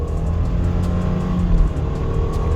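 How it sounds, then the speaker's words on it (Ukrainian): A 2017 Subaru Forester 2.5 with automatic CVT drones steadily from inside the cabin as it accelerates from a standstill uphill, a loud continuous hum with rising tones and road noise. "Пробуємо розгін від нуля до сотні."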